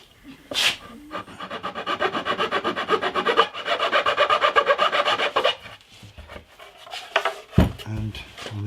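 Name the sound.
filing wood on a hollow body bass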